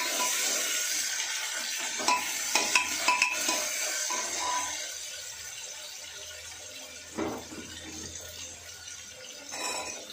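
Vegetables stirred and frying in oil with browned cumin for a veggie rice dish, a steady soft sizzle running throughout with several scraping stir clatters near the start and a few more later, no talking.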